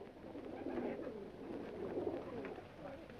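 Pigeon cooing, soft and fairly distant, with low repeated coos rising and falling over a murmuring background in an old 1938 film scene.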